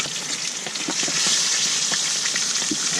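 Blackened shellcracker fish frying in a pan at a lunch cookout, a steady close sizzle with dense crackling pops running throughout, no talk.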